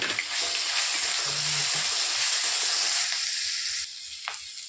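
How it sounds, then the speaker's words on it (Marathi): Green chili thecha added to hot oil in a pan for mirchi batata vada, giving a loud, close, continuous sizzle and frying hiss that drops sharply in level near the end. "आता टाकत आहोत आपण हिरव्या मिरचीचा ठेचा थोडासा"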